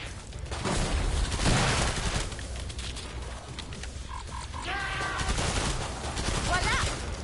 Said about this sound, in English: I like shooting them!